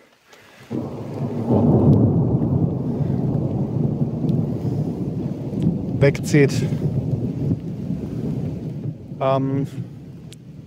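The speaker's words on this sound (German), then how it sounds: "Und das ist Gewitter." A thunderstorm rolls over the mountains of the Picos de Europa in Spain, heard as a long, loud, rumbling peal of thunder with rain, and brief voices break in near the end.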